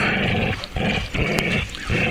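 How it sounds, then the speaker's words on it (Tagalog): A dog named Brownie growls angrily in rough, loud rumbling bursts broken by short pauses, close by and with no voices over it. "Parang galit na galit yung aso ko."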